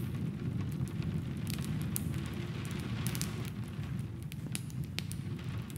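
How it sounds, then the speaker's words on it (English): Steady rainfall forms a soft, continuous wash with scattered brighter drop patters, heard quietly and alone with no voices. "The rain, a beautiful melody, brings with it a sense of cleansing,"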